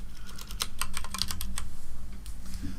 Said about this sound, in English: let me just press space and type noise